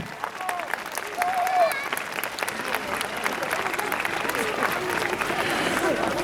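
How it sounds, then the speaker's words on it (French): A crowd gives warm, sustained applause for uniformed reenactors at a Great War museum's tenth-anniversary celebration, steady clapping with a few voices and whistles mixed in. "Applaudissez-les bien fort, ils le méritent."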